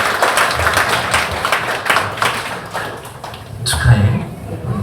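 Church congregation applauding during a Sunday worship service for a birthday, a steady wash of many hands clapping throughout, moderately loud, with some voices mixed in.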